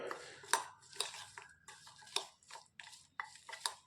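Peanuts being mixed with lemon juice and spices for crispy peanut bhajiya, a utensil scraping and clinking against a bowl in short rhythmic strokes, close and fairly quiet, with no talk.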